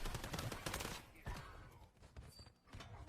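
Gunfire in the battle royale game Warzone, Rebirth mode: a rapid, loud burst of shots in the first second, then a few scattered single reports over a quieter background.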